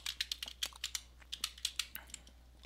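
Quick, light clicks of typing on a computer keyboard, irregular bursts of keystrokes close up and quiet, with no voice.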